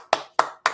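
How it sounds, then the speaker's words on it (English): One person claps three times in slow, even succession, each crisp hand clap sharp and close with a brief ringing decay between. "Full round of applause"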